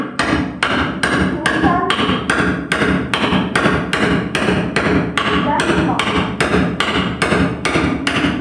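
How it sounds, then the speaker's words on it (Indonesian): Steady, rapid metal-on-metal tapping as an iron hammer strikes a 32 mm socket wrench during a vocational school skills competition, blows landing at roughly three per second, loud and close throughout. "ketok menggunakan palu besi dan kunci sok ukuran 32 mm"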